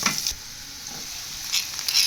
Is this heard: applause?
no